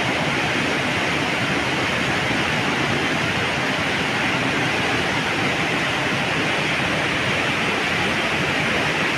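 Loud, steady rushing of strong river water, a constant dense roar with no breaks, close by.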